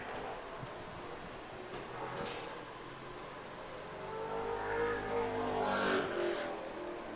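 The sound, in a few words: Ford Mustang late model race car completing a lap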